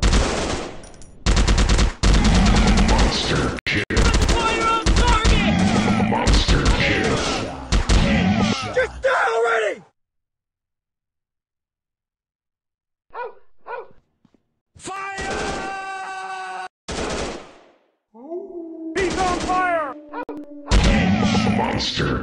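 Video game machine gun fire comes in loud, dense automatic bursts that break into near silence, then return as shorter volleys and single shots with some impact thuds.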